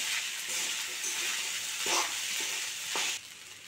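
Soaked sabudana is tossed and sautéed in a hot pan for khichdi, giving a continuous, moderate sizzle with a couple of brief scraping stirs before it eases off.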